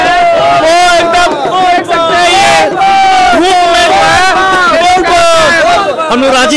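A dense crowd of kanwariya pilgrims fills a temple during a Nag Panchami gathering, loud and continuous, with many voices chanting and shouting together in rising and falling waves.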